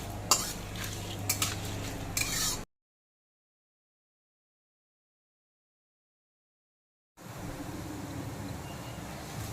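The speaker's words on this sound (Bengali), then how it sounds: "গোটা গরম মশলা, গোটা জিরেটাকে হালকা করে ভেজে নেব" Whole garam masala and cumin sizzle gently in oil with a spatula stirring against the pan, a soft frying hiss before a stretch of silence and a brief return.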